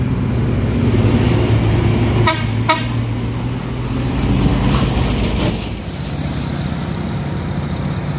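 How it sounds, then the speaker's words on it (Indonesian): Box trucks labor up a steep uphill road with a steady low engine drone, while a few sharp horn toots sound close by. "ramai truk yang sedang melakukan pendakian. Truk box."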